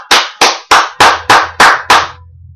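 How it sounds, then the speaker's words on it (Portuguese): Six sharp, evenly spaced hand claps ring out close and loud at a steady rhythm, each with a short decay, followed by a low hum as the clapping stops. "Merece uma salva de palmas, não merece?"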